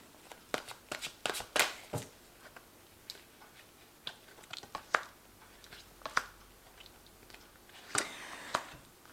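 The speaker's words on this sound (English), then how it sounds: "I'm going to just draw some cards from the Angel Tarot here" Angel Tarot cards are shuffled and drawn on a table, close papery riffles, flicks and soft slaps in irregular bursts, fairly quiet with no talk.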